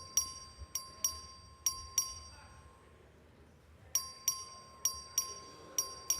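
A bright electronic voting bell in a legislative house chamber rings in short, rapid dings, two bursts separated by a quiet pause, fairly faint against a low room hum.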